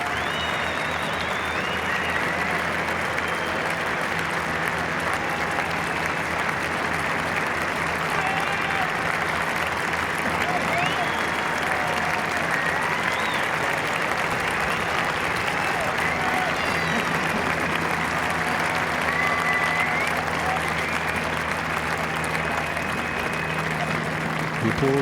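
A golf gallery at the final round of the 142nd Open Championship applauds Phil Mickelson with sustained, dense clapping and crowd noise lasting throughout, with commentary voices underneath.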